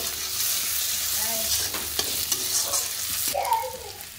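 Garlic paste and chopped tomato fry and sizzle in a pan as they are stirred, with a steady hiss broken by scraping strokes of the spoon against the pan.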